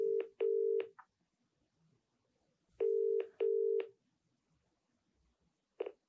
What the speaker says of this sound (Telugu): నేను కాల్ చేస్తాను.